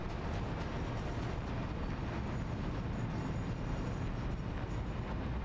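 A train in the factory-building video game Satisfactory rumbles with a steady, dense low roar of wheels on rails, continuous and fairly loud from start to finish, with no voices over it.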